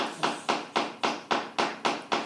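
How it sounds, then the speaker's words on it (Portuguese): Renovation work at a neighbour's home comes through as a steady series of dull, evenly spaced knocks, about two per second, moderately faint and heard from another room, with no one talking. "desculpa pelo barulho, meu vizinho está reformando"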